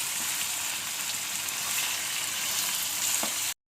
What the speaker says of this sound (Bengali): চিকেনটি জাস্ট ভাজতে ভাজতে একটু সিদ্ধ হতে হচ্ছে